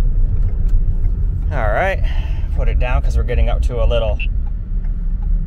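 A 2010 Lincoln MKS driving on a road, a steady low engine and road rumble running throughout beneath someone speaking close by.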